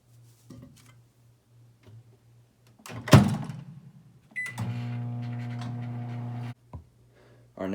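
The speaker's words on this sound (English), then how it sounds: "And let's microwave it." A door thumps shut, beeps sound, then a microwave oven heating a cup of instant ramen hums steadily for a couple of seconds before stopping.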